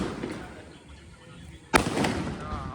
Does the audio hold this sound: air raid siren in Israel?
no